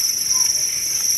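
Crickets on a cricket farm keep up a dense, continuous high-pitched chirring, steady and fairly close, with no other sounds.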